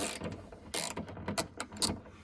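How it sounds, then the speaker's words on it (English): A socket ratchet unscrews a rear bumper bolt on a 2002-2006 Toyota Camry, giving bursts of quick clicking pawl ratchets, close and moderately loud, with short pauses between strokes. "keep going till the bolt comes out"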